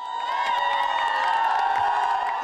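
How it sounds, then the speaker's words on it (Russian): Students chanting and cheering at a first-year student parade, a sustained loud crowd roar with shouting voices blended together, close and continuous throughout. "Кричалки, шумелки и просто задорное скандирование названия своего вуза на разные лады"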